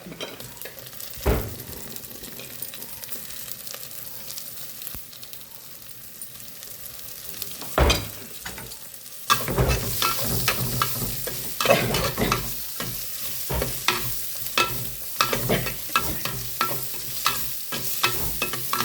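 Onions hiss in hot oil in a pan as a spatula scrapes and stirs, a quiet start that turns louder and busier at about nine seconds, with steady sizzling and clacking strokes close by.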